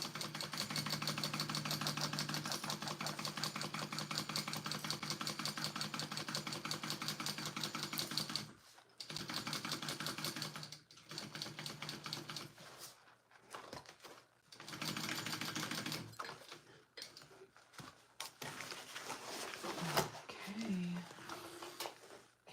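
A sewing machine stitching a canvas tote bag, running in rapid mechanical bursts that stop and restart several times, with a person talking intermittently.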